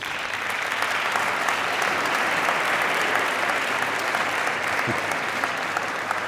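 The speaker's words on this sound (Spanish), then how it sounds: "Un aplaudiment per a ells" A school audience applauds the first-year baccalaureate students at a science contest presentation, steady dense clapping filling the room evenly for several seconds without pause.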